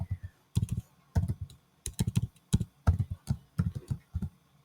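Someone types code on a computer keyboard, close and fairly quiet, in quick bursts of clacking keystrokes separated by short pauses, with no talking.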